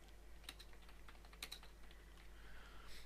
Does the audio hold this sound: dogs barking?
no